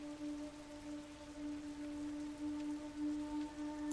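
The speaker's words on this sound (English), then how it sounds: "Look at those, the raindrops on his head splashing." Steady rain patters on a character's head in The Last of Us, a faint, continuous wash of drops with constant low tones from the game underneath.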